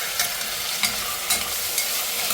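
Chopped tomatoes for mutton curry cook in a hot pan, giving a steady loud sizzle and frying hiss with a few soft stirring scrapes recurring at regular intervals.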